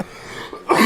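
A single harsh cough, close and loud, bursting out near the end of a short stretch of quiet breathing.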